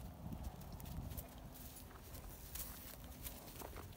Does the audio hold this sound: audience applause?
no